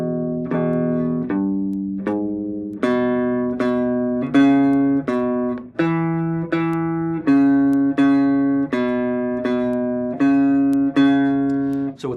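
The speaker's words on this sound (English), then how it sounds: "The next exercise is a little E blues bass line." An E blues bass line is picked note by note, clear sustained low tones in a steady repeating pattern, each note starting with a sharp attack and ringing into the next, with no voices.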